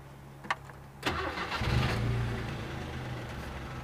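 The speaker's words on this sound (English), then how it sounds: "Let's get the engine running then." A 1993 Subaru Justy engine cranks briefly and catches, then settles into a steady, fairly loud idle close by, with no talking.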